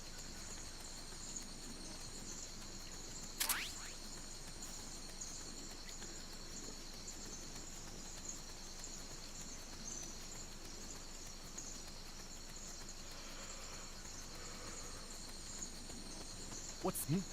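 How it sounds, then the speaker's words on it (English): Steady high-pitched cricket chirring in the Metal Gear Solid: Peace Walker video game, a continuous insect drone running unbroken throughout with a brief sharp click early on. "I know what crickets sound like."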